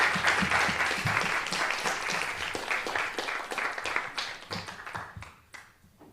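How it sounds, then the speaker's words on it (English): Sustained applause from an audience at a student council meeting, dense continuous clapping that fills the room before thinning out and trailing off toward the end. "Let's give a round of applause to all the candidates and their speeches."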